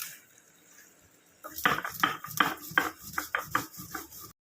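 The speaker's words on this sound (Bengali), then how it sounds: "আমি ততক্ষণে ভাজা মশলাটা শিলে বেটে নিলাম" Fried spices ground by hand on a flat stone slab, a quiet start giving way to loud, close, rhythmic scraping strokes repeating roughly every half second.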